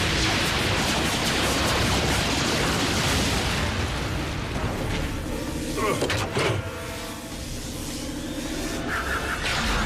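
A loud, dense barrage of explosions and gunfire from the animated series Transformers: Robots in Disguise, dubbed in Hindi, roars continuously at close range, with booms and bursts piling over one another and faint voices underneath.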